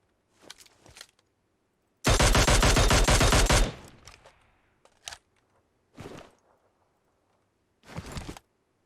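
A sustained burst of rapid automatic gunfire in PUBG Mobile dominates, surrounded by several shorter scattered shots and bursts with quiet gaps between them, some coming from inside a house.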